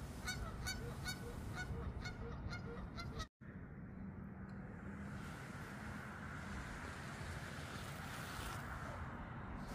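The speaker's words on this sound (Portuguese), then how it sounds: "São aves lindíssimas, os marrecos." Ducks (marrecos) at a park lake in Indiana give a run of repeated nasal honks for about three seconds. After a brief dropout, a steady outdoor wash of wind or water follows.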